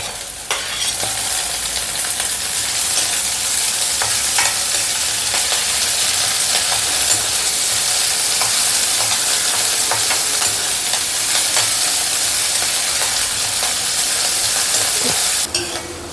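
Four sliced green chillies sautéing in a pan give a steady, close sizzling hiss that runs unbroken, with occasional light stirring scrapes and no voices.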